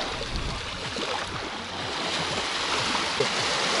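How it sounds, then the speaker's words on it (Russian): Baltic Sea waves wash steadily onto the shore at a Kaliningrad coastal resort, a continuous broad hiss of surf with soft breaking pulses, close and loud throughout with no wind gusts. "Здесь другие волны, конечно, и ветра нету"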